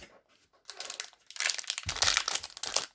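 Crinkly plastic of a Disney Doorables Academy Campus Crew blind pack being torn open, a string of close, loud crumpling and tearing bursts that build after a quiet start and grow denser toward the end.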